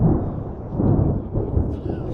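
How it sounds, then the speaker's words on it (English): Deep rolling thunder from a thunderstorm near Cock Marsh rumbles loudly and continuously for about two seconds, a broad low roar with no talking. "Thunderstorm."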